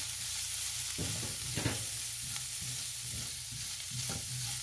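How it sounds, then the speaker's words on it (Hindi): Spices and cumin frying in a hot pan, giving a continuous loud sizzle with intermittent stirring scrapes close by and no talking. "चलो इसको अच्छी तरह फ्राई करती हूँ"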